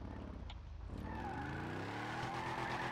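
A rear-wheel-drive pickup truck drifts in a video game, its tires squealing and skidding over a droning engine. The sound is fairly faint and continuous, with rising pitch sweeps as the slide goes on.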